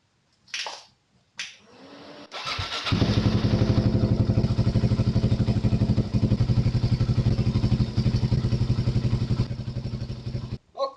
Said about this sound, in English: We'll have to let the bike run for a few minutes, not revving the engine